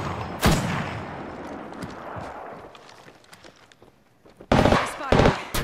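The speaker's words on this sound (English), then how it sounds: "The enemies are shooting at me." Gunfire in the Apex Legends game: a sharp shot burst at the start trails into a noisy, decaying rumble, then another dense cluster of rapid shots returns near the end, with a voice faintly present.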